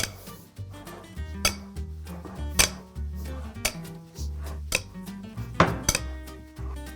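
Pizza dough is mixed with salt in a bowl, heard as repeated close clinks and scrapes of a utensil against the bowl in an uneven rhythm, with faint kitchen clatter and no talking.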